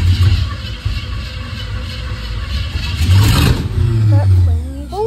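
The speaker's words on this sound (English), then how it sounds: "We got the engine and everything in, and now we're starting it." A 1951 Chevy's engine cranks and fires up, then revs with rising, rumbling surges up close, while a person's voice rises over the end.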